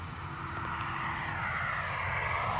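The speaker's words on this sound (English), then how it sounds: "runway 10 right, clear for takeoff" An airplane takes off from runway 10 right at Dublin Airport. Its engines make a broad, steady roaring rumble that swells slightly in loudness and stays fairly distant, with no voices.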